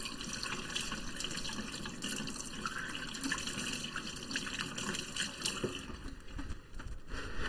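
Hands being washed under a running kitchen tap, a steady, fairly faint stream of water splashing continuously with light shifting as the hands move beneath it, no talking.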